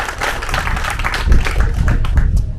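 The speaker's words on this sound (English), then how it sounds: "this is the last applause you're going to have to give before we do the awards" Loud, dense audience applause at a sailing club awards event for the ILCA US Nationals, many hands clapping close by in a continuous roar with occasional low thumps.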